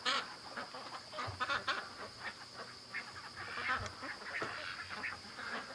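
Ducks in a pen on a windy day quacking faintly and fairly far off, soft scattered calls over a steady background hiss with no talking.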